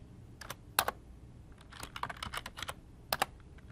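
Keys clack on a computer keyboard as a name and password are entered, with crisp taps in short uneven bursts and brief pauses between them, close and fairly quiet.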